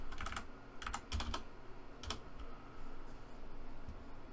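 Quiet typing on a computer keyboard: a few scattered clusters of soft key clicks at close range, with pauses between them and no talking.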